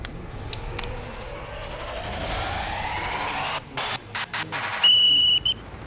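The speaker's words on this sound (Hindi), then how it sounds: "और आखिरकार रेफरी की सीटी बज गई है और ये मैच स्टार्ट हो गया है।" A referee blows a whistle to start a match: one short, shrill blast near the end, after rising swooshing noise and several abrupt cuts.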